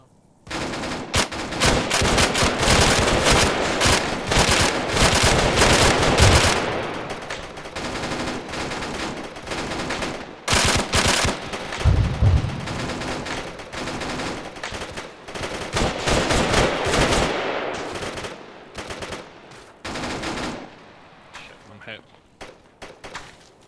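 Machine guns in Arma 3 fire long, loud bursts separated by short pauses, with voices talking among the shots.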